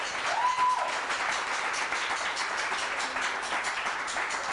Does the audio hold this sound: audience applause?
yes